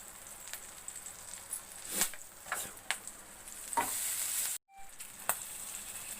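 Two chillies drop into hot, fully melted butter, giving a faint, steady sizzle with a few scattered spoon clinks and stirs. A brief hiss swells near the end before a short gap, close but quiet, with no talking.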